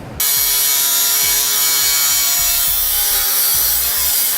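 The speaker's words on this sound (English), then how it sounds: "we're going to trim some of this excess bracket off just so it doesn't come into contact with our AC line" A power cutting tool trims excess off a steel base plate bracket near the AC accumulator of a 2015 Ford Fiesta, a loud continuous grinding whine with steady rhythmic stroke pulses, close and alone.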